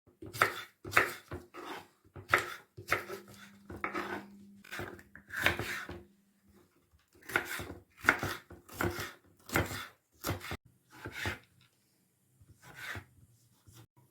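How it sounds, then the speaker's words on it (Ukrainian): Steady knife chops on a cutting board, about a dozen sharp strikes in uneven bursts with short pauses, close and fairly quiet, as vegetables including onions are cut into pieces. "Все ріжемо на кусочки."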